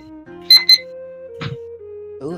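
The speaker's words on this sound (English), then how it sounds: "Ooh, that's the alarm" An electronic alarm goes off with a pair of sharp high beeps followed by sustained, shifting tones, close and fairly loud, with no talking.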